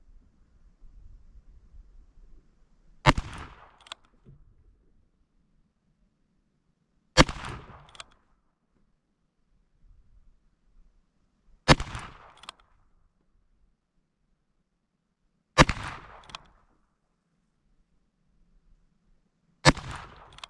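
A Ruger Single-Six revolver with a longer barrel fires .22 rounds at a target, five sharp cracks spaced about four seconds apart, each ringing briefly before quiet returns.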